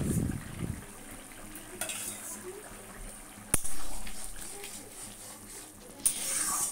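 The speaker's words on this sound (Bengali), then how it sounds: "তরকারি ঝোলে দেওয়ার পরে কিছুক্ষণ আমি নাড়িয়ে নিলাম" Spinach curry with green chili is stirred in a pan, giving soft scraping, sizzling and occasional clinks of the utensil against metal, fairly quiet and close, with a voice talking early on.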